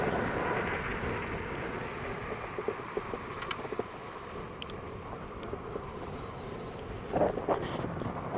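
Wind rushes steadily past a Specialized Ambush Comp helmet while cycling, a constant rumbling roar with occasional faint ticks and rattles.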